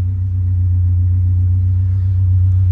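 A Nissan D21 Hardbody pickup truck's engine, fitted with a MegaSquirt standalone ECU, idles steadily up close, giving a loud, even low rumble throughout with no talking.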